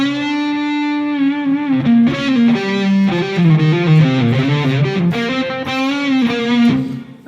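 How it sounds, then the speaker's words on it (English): An electric guitar, recorded through a DI box, plays sustained chords and a melodic line drenched in reverb, the notes ringing and washing into each other. "So we've got some reverb now."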